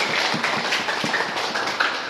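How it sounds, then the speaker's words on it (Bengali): Another round of clapping from a group of students at an informal entertainment session, a busy, even patter of hands with a few sharper claps poking through. "নীরবের জন্য আরেকটা হাততালি।"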